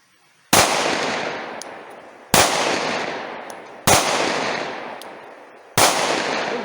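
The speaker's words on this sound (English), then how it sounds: "So here's my Glock 43X. Everyday carry. I'm shooting full metal jackets out of it." A Glock 43X subcompact 9mm pistol fires full metal jacket rounds at a range, with four loud, sharp shots spaced about two seconds apart, each followed by a long echoing decay.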